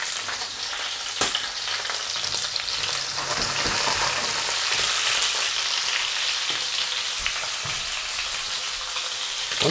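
Garlic and cherry tomatoes fry in a hot pan for shrimp spaghetti, a loud, dense, continuous sizzle like heavy rain with occasional pops and stirring knocks, no talking.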